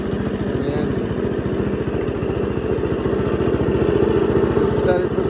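A Tornado/Baker wood chipper's small engine runs steadily nearby, giving a loud, even, rapid putter with a rattling clatter that holds constant throughout, no voices audible.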